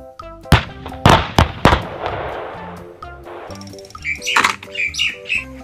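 A toy military tank fires several sharp, loud bangs in quick succession, then lets out a softer rumbling burst and electronic whistling tones over a faint musical background.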